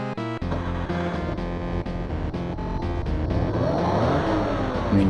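Ferrari engine sound in the Test Drive video game, heard as a steady buzzing synthesized drone whose pitch slowly rises as the car accelerates, continuous and loud with no talk.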